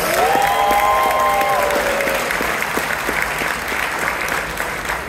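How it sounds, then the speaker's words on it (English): Sustained applause from a gala audience in Chicago fills the room at steady loudness, with brief tonal voices or cheers rising over the clapping early on before the dense clatter continues alone. "Can we please give another round of applause to Delia Ramirez?"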